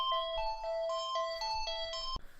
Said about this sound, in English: So if you just heard the phone go off